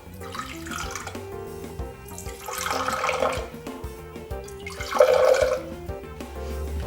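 Water runs from a tap into a small container in splashing bursts, a couple of centimeters' worth for a homemade Valentine's craft, rising and falling with no voices.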